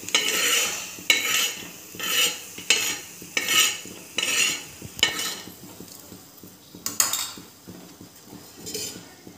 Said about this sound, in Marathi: आता काढून घेते धने पण.